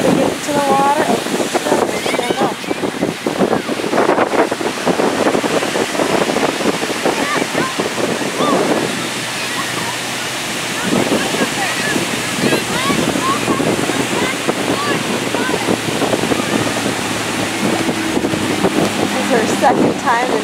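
Ocean surf at Mission Beach, continuous washing waves and wind buffeting the microphone, loud and close, with voices talking over it at times.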